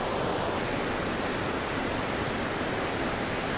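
A waterfall near Cradle Mountain in Tasmania, a dense, steady broadband roar of falling water, close and constant, with no voices or other sounds.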